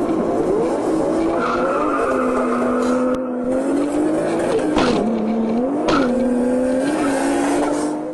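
Turbo Toyota Supras launching at a drag race, a loud engine roaring and rising through the revs with tire squeal, the pitch dipping and climbing again as the car bogs down.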